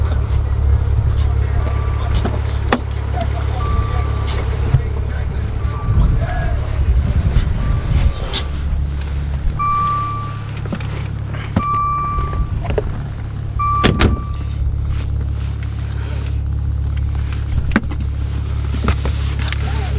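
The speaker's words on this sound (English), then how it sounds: "it's time to take it on a road test and see exactly how this Maserati handles" A twin-turbo V6 Maserati out on a road test: a steady low engine hum and road rumble fill the cabin, with a few brief electronic beeps and clicks over it.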